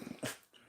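A dog nearby gives a brief, faint low growl with a short breathy huff, over a quiet room with no talking.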